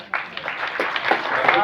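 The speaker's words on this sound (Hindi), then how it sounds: "जोरदार तालियों से अभिनंदन।" An audience gives welcoming applause at a stage event for disabled poets, a burst of clapping rising and holding steady over short seconds, with voices mixed in.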